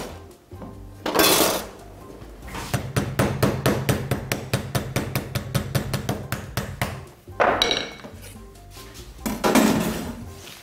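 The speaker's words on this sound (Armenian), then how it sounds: "Կոշտ մասը կարել է մուրճով թեթևակի ծեծել" Meat for Shirak pafkeni is pounded lightly with a mallet in a rapid, steady run of about thirty close taps, with louder rustling, scraping bursts before and after.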